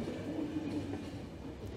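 A train rumbles steadily along in the video game The Final Station, a constant low rolling drone with a soft clatter of wheels on track and no speech.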